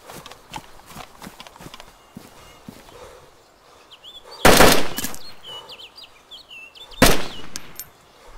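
Gunfire in the survival video game DayZ: two loud, sharp sniper-style shots a few seconds apart, over scattered soft footsteps and clicks, with faint voices in between.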